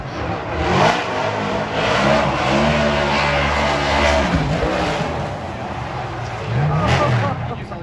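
A BC Racing Mustang RTR Spec 5 FD drift car at Formula Drift Long Beach qualifying, on Nitto tires: a loud engine revving and rising in pitch, with commentators talking over it.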